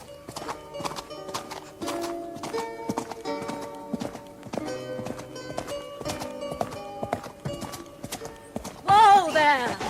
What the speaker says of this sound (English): Perhaps he can hear the sound of my horse.